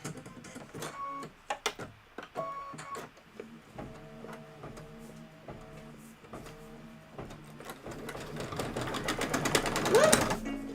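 A domestic sewing machine stitches in stops and starts, its buzzing motor whirring in short bursts, then running faster and louder toward the end, where a sharp squeak and clatter mark a missed take-up lever.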